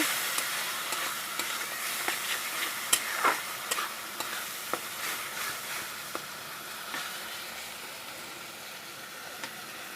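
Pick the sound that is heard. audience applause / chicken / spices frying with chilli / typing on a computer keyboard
spices frying with chilli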